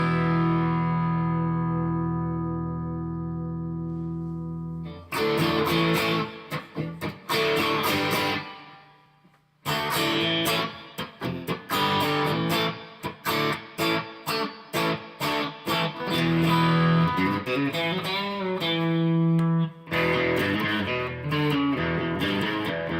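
Electric guitar played through a Keeley Noble Screamer overdrive pedal with reverb, starting on a sustained, ringing chord and then moving into loud, driven strummed and picked passages with brief pauses between phrases.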